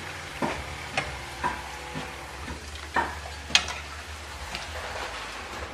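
Shrimp crackers (kerupuk udang) fry in hot oil, a steady close sizzle broken by several sharp clinks and scrapes of a utensil stirring in the pan.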